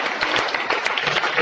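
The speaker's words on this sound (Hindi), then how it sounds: "जोरदार तालियों से स्वागत करेंगे" Students clapping for a nominee at a school assembly, a dense, steady patter of many hands that carries on throughout with no pause.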